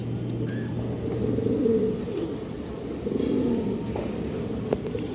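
Pigeons coo softly inside a breeding loft, low murmuring calls repeating under a steady background hum.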